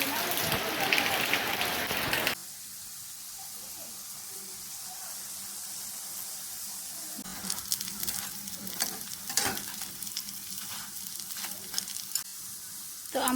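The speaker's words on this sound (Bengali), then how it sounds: "তো আমার বড়াগুলো কিন্তু প্রায় ভাজা হয়ে গিয়েছে" Ridge gourd leaf fritters frying in oil: a loud close sizzle at first, then a softer steady hiss with irregular crackles and pops that grow busier toward the end.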